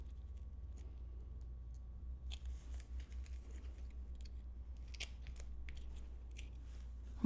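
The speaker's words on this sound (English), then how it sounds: "And I'm just going to nip those corners just a little bit." Scissors nip the corners of a painted leather cuff, giving a handful of soft, quick clipping sounds against a quiet room.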